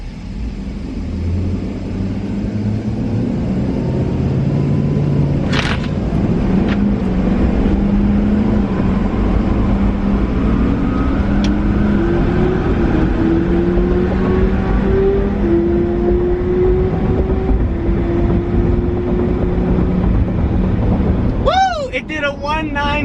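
A twin-turbo Chevrolet Silverado pickup truck makes a drag strip pass, its engine a loud, steady roar with rising tones as it accelerates hard, joined by wind noise, with brief sharp sounds partway through and near the end.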